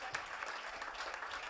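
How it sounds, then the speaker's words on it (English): An audience at an Irish traditional arts event at the Celtic Junction Arts Centre in St. Paul applauds two people, giving a steady, fairly faint round of many hands clapping throughout, with no one speaking. "Give a big round of applause to Cormac and Natalie."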